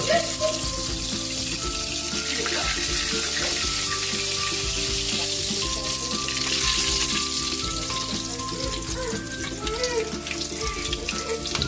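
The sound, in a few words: tilapia fish frying in oil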